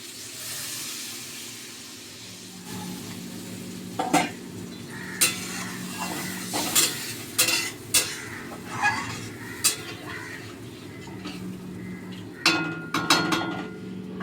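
Hot water poured into spice paste frying for a Bengali fish curry, with the pan stirred: a steady low hiss under a run of sharp, separate utensil scrapes and clinks against the pan.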